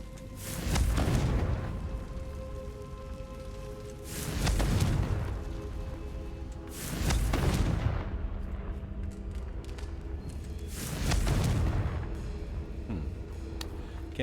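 In Hogwarts Legacy, the Confringo fire spell is cast repeatedly to burn away webs, with four deep, booming fiery bursts roughly three seconds apart, each swelling and fading into a low rumble.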